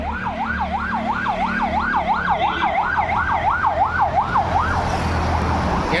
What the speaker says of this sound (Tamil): எனக்கு தெரிஞ்சு இங்கே போகிறது தான் ஒரிஜினல் ஆம்புலன்ஸ் நினைக்கிறேன்